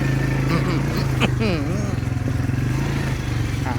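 An ATV engine hums steadily close by as it is ridden on a forest trail, with excited voices talking over the continuous drone.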